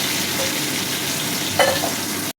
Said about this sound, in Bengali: কাঁচা আমটা একটু ভাজা করা হচ্ছে।